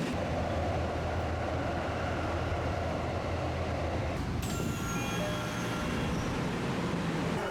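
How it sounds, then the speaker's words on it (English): Steady, loud rumble of a Tokyo subway train riding toward Oji Station, a continuous roar of wheels and motors filling the clip, with a thin high squeal of rails rising partway through. "Once again, I'll be taking the subway to move on."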